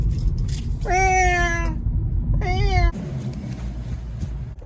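A cat meows twice, a long drawn-out cry followed by a shorter one, close by over a low rumbling background.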